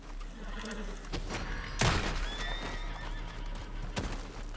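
A horse in the video game Red Dead Redemption 2 whinnies loudly amid clip-clopping hooves and sharp game effects, with several neighs over a steady background.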